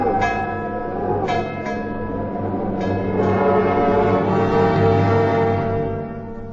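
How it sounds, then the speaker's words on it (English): A large bell, the Liberty Bell, rings repeatedly in a staged show scene, its deep resonant tones overlapping into a rich, sustained hum with a few brighter strikes, loud and close. "Sound the bell!"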